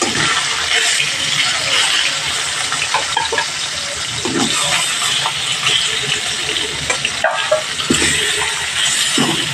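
Snakehead fish frying in hot oil, giving a steady, loud, close sizzle and crackle throughout, with a few small clinks and stirring sounds.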